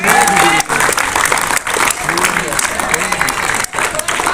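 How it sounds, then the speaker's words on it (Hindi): Audience applause at a cricket ground gathering in Bareilly, loud sustained clapping broken by a few short dips, with a voice speaking over it. "मयंक, उसके लिए भी ताली"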